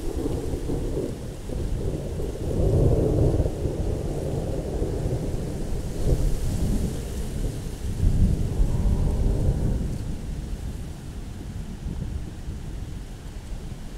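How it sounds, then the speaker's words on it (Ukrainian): Thunder rolls through a thunderstorm with falling rain during a carp fishing trip: deep, sustained rumbling swells and fades across the whole stretch over a constant hiss of rain, with no voices. "Як гримає."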